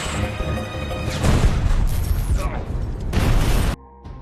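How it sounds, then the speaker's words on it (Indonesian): A gunshot hits an oil drum: loud bursts of booming, crashing noise with a metallic ring and a whistling tone, ending abruptly in a quieter low hum. "Brandon menembak drum minyak agar penglihatan malam Mesiello terganggu"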